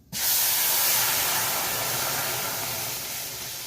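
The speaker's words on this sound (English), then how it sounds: "I'm gonna add a dash of olive oil. And this part's a little dangerous" Olive oil hitting a hot frying pan sets off a sudden loud, steady sizzling hiss that fades only slightly as it keeps spitting, with no voices over it.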